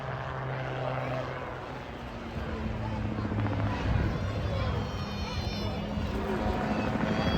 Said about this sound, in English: This is the Rotorsport Calidus Autogyro.